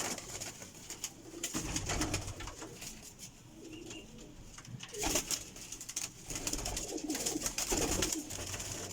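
Pigeons coo softly in low, repeated murmurs, several birds close by, with occasional rustling and flutters in the background.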